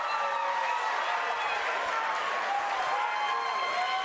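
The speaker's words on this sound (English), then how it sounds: "The crowd's freaking out." A livestream crowd claps and cheers in a dense, unbroken roar of applause that holds at the same level throughout, with no talking.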